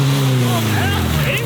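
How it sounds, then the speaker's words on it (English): A Lamborghini Aventador with a full Spoon exhaust rumbles loudly and close, its deep steady drone rising slightly in pitch over the brief span. "That's a full spoon exhaust."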